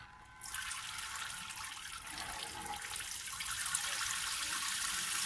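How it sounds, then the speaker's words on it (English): A portable shower on a VW T5 campervan runs in a steady, continuous hiss of spraying water that starts abruptly and carries on without a break, close and fairly loud. "Turn it on."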